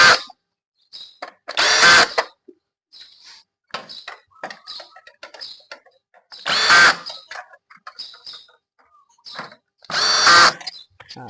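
A power drill tightens screws on the tray D duplex unit of a Xerox WorkCentre 7855 copier, in three short, loud whirring bursts separated by quieter clicks and handling noises.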